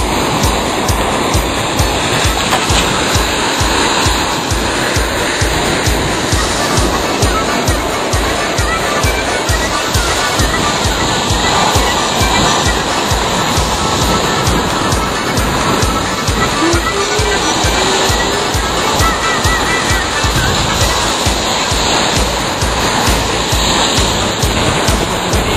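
Waves wash continuously onto a beach while strong wind buffets in steady, loud broadband noise, with no voices standing out.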